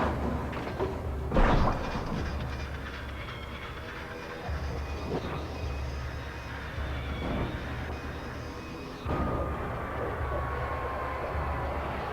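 A helicopter flies overhead in the Alan Wake video game, a steady, loud rotor and engine roar with a brief louder swell early on and a shift in tone near the end.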